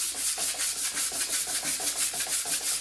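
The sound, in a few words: sanding furniture surface with 80 grit sandpaper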